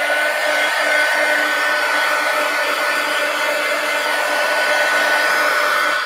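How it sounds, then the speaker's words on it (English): A heat gun blows steadily on a mixed media collage pumpkin, a loud, continuous whooshing roar with a faint steady whine that holds without a break for the whole stretch. "let's go ahead and hit this with a heat gun just for a minute"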